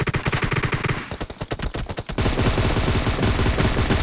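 Rapid bursts of M762 rifle fire in PUBG Mobile, loud and close, first in choppy clusters then a sustained unbroken volley to the end.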